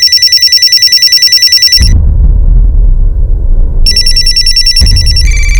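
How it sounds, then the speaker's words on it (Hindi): A telephone bell rings in a crime-drama police scene: a loud, rapid electronic trill for about two seconds, then a low rumbling pause, then the ring starts again near and clear. "सलीम जी फोन लीजिए"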